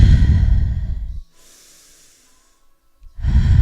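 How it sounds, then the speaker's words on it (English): Deep breathing during a yoga flow in a downward-dog style pose, with a long, loud breathy exhale, a pause with faint airy hiss, then another strong breath starting near the end. "And breathe."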